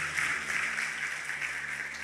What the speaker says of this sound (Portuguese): Vamos aplaudir o Senhor por essa palavra poderosa